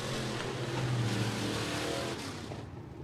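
SportMod race cars roar through turns three and four on the final lap of a heat race at Raceway Park, a loud, continuous blend of engines from several cars.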